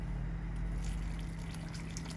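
A small splash of water poured into a pot of simmering chicken curry, a steady wet trickle and gurgle over low kitchen hum, close and continuous.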